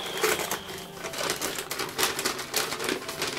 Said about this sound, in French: Je vais être obligée de déchirer.